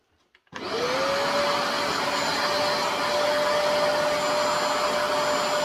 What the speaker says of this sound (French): Je vais passer un petit coup d'aspirateur avant.